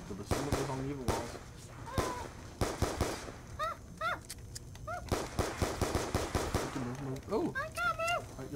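Gunfire in the video game Black Ops 2 Zombies sounds as a series of sharp, loud shots and short bursts at an irregular pace, with people talking over it and in the pauses.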